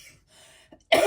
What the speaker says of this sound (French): Ah, la toux.